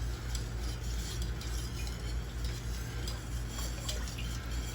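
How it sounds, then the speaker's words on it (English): Clear gel being stirred into canning liquid for Swiss steak, a steady close swishing and faint clinking of a utensil against the pot over a constant low hum, with no one speaking. "I'm going to stir that up and get it rolling here."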